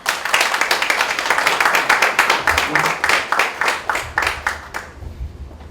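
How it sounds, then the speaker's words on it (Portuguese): A lecture-hall audience gives a round of applause for a professor at a legal seminar, dense steady clapping that swells and then thins out into a few scattered claps at the end. "Quero passar então para o professor Antônio Arroio, com a salva de palmas"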